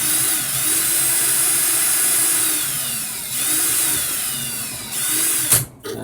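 A power drill spins in reverse to loosen a wire coil ribbon on a Dead Rabbit RDA vape atomizer, giving a loud, steady motor whine that wavers in pitch, then clicks and stops near the end.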